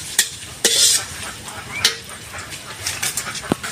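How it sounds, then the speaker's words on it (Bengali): Onions frying in a pan for a Chinese-style vegetable dish, a soft steady sizzle under sharp scraping strokes of a spoon or spatula against the pan, several separate knocks spread through, close and moderately loud. "পেঁয়াজটা ভালো করে ভেজে নেবেন।"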